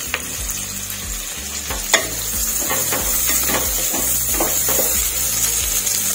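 Slit green chillies frying in oil with coriander and mint for sambar give a constant close sizzle, with intermittent stirring clinks and scrapes throughout.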